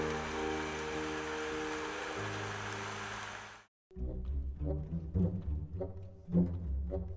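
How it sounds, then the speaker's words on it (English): Steady rain hisses continuously as a background sound played on a Mac, then cuts out briefly. Uneven, louder splashy patter follows, with rhythmic drops. "I like the sound of rain"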